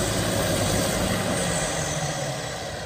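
A 1998 John Deere 850C dozer engine runs with a steady, loud diesel rumble throughout, close by and unbroken.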